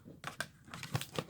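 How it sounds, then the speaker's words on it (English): A deck of tarot cards being shuffled by hand, several quick, soft papery riffles and slides in short bursts, close and faint with no talking. "mixing up the cards we've already looked at"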